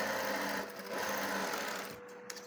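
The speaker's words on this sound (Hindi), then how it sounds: "और एक सिलाई आप ही ने या लगानी है सीधी" A sewing machine runs a straight seam on a kurti with a fast, steady mechanical whir and rapid needle rattle, close and continuous, then slowing and stopping near the end.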